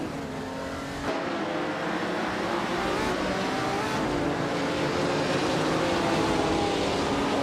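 1950s sports cars, including a 1957 Ferrari 250 Testarossa, roaring off the start of a race, a steady loud engine drone that rises as the pack accelerates.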